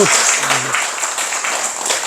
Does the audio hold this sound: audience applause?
yes